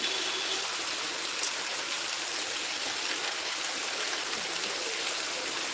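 Heavy rain pouring steadily outdoors, a constant dense hiss without letup, loud and even, with no voices.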